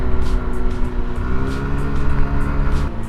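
A Yamaha Fino 125 scooter fitted with an upgraded CVT runs with a steady, droning engine hum and tonal whine, holding an even pitch close by with no talking.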